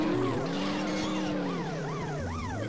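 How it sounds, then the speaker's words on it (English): A police car siren wails in a racing video game, loud and near, with rising and falling sweeps over a steady engine drone and no talking. "And a police car."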